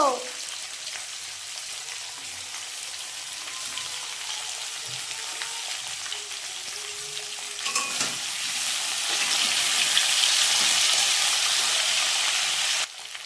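Chili dropped into hot oil for a drumstick and potato curry fries with a steady crackling sizzle that swells louder toward the end, with faint stirring sounds underneath.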